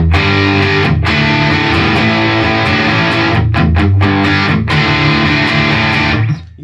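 An electric guitar played through a BOSS DS-1W Waza Craft distortion pedal into an amp, loud and heavily overdriven, with sustained power chords and brief choke gaps before a final cutoff.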